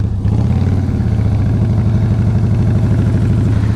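Ferrari engine driving by close and loud, a throbbing, pulsing burble that holds steady for a few seconds, with no talk over it.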